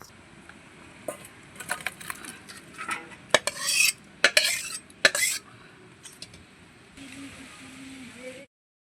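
Fish roe curry with vegetables, a sour mustard dish, is poured from the pan and stirred into a bowl, with a run of clinking spoon-on-metal scrapes and taps, then a softer steady pour near the end.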